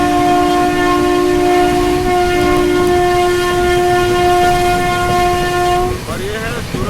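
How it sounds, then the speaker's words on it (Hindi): A loud, sustained horn blares from the Mumbai Duronto Express as it runs at speed, with the steady roar and rattle of the rail cars continuing close by after the horn cuts off. "और ये है दुरंतो की रफ्तार।"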